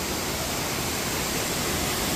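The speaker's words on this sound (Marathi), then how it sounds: "धबधबा।" Domzara waterfall in Jawhar roars as a dense, loud, unbroken wash of falling water close by, with no other sounds over it.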